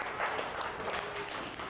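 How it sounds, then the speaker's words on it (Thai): Children applaud in a classroom, a steady, fairly faint patter of many small hands that carries on for about two seconds with no voices over it. "เสียงปรบมือกับพี่ทันครูหน่อยค่ะ"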